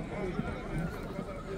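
A horse whinnies at the Jalal-Abad livestock market amid a busy crowd, with short neighing calls rising over constant chatter and market bustle; the calls are moderately loud and partly masked by voices.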